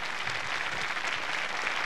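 Live television show audience in Chile, 1987, applauds José Luis Rodríguez El Puma with a thick, continuous roar of clapping, loud and close, steady throughout with no gaps.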